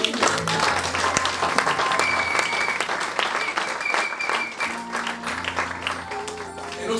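Sustained applause fills a church during a sermon as the congregation acclaims the Lord, dense steady clapping from many hands with a faint crowd murmur, holding strong for the whole stretch.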